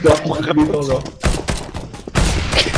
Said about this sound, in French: j'ai tiré une grenade sur les mecs